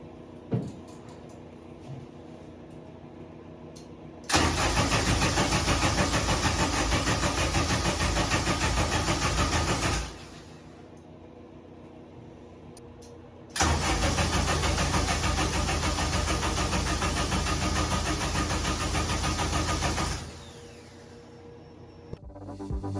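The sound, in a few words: K-series supercar engine cranking without starting, fuel pump fuse removed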